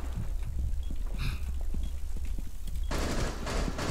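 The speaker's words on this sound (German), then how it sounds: "Wird hier beschossen" Gunfire in Rainbow Six Siege crackles in scattered bursts behind game noise, then a loud dense rattle of shots breaks out near the end.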